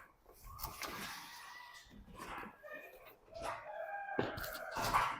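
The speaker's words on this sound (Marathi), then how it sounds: "हे कोंबडे इकडे सेलसाठी ठेवलेत" Roosters kept for sale crow and cluck nearby in a noisy poultry shed while a person talks over them.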